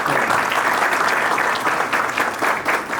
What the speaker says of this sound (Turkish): Büyük alkışlarınızla Şanlıurfa Ticaret ve Sanayi Odası Başkanımız Sayın Mehmet Yetim Bey sahneye davet ediyoruz